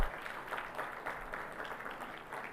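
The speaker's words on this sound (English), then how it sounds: "Ladies and gentlemen, keep the applause coming" Audience applause at a maritime conference event fills the span at low volume, an even patter of many hands heard from a distance.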